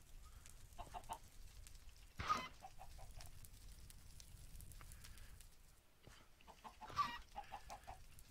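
Minecraft chickens cluck quietly in the game, with short bursts of clucking at a few points over a faint, steady background hum.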